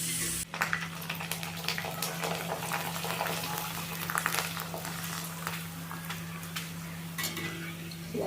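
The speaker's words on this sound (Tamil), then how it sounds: "நம்ம வத்தல் கொஞ்சம் பொரிச்சுக்கலாம்." Sun-dried vathal crisps fry in hot oil with a steady, close sizzle and bubbling, broken by occasional clinks of a utensil against the pan.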